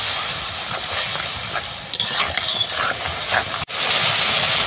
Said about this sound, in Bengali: এবার মশলাটাকে বেশ সুন্দরভাবে কষে নিই।